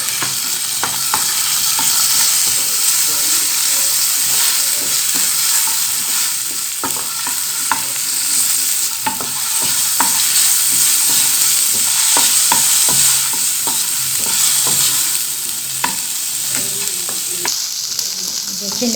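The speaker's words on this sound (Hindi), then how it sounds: "इसको थोड़ा सा हमने फ्राई करना है।" Garlic fries in a pan with a steady, close sizzle, while a spoon stirring the pan adds light scraping clicks throughout.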